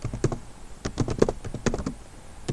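Someone types on a computer keyboard with quick, irregular keystrokes, close and clear, the clatter coming in short bursts with brief pauses.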